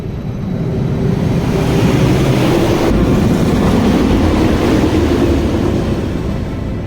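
At Energylandia amusement park, a roller coaster train rolls along its track while the trains are being changed, producing a loud, continuous rumble and clatter that stays steady throughout, with no voices.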